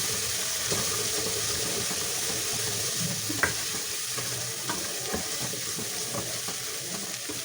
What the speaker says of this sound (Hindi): अब हम इसे अच्छे से भून लेंगे। मसाले को हमने बहुत ही अच्छे से भूनना है।